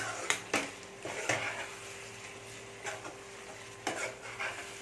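Prawn biryani masala is stirred in a pan, giving soft, irregular spoon scrapes and clinks over a faint, low sizzle, quiet and close with no talk.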